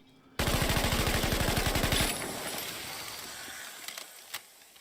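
German WW2 MG34 or MG42 machine gun firing in a movie scene: a loud, very rapid burst of about two seconds that fades into a long echoing tail.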